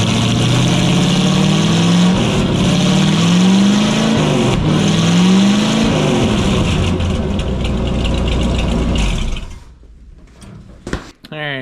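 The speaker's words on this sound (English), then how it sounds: "let you listen to what the truck sounds like" A big-block V8 engine in a Ford F-150 truck idles loud and close, revving up and settling a couple of times before cutting off, followed by a few faint clicks.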